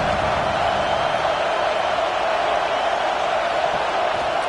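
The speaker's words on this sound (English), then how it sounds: "Decibels rising as the crowd gets behind this defense on 3rd down." A football crowd at an AKFL game roars steadily behind the home defense on third down, a dense continuous wash of cheering that holds at a constant level throughout.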